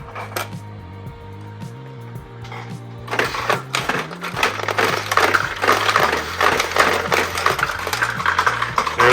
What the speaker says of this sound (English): You can see the lifter there, dumping the balls.